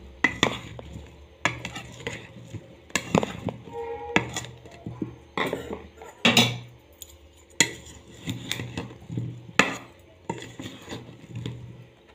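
A metal spoon stirs carrot and lime pickle mixed with ground chilli powder in a bowl, giving repeated close scraping and clinking strokes in an uneven rhythm with brief pauses, with no voices.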